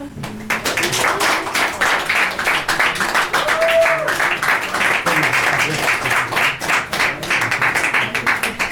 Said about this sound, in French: sous vos applaudissements les plus fouges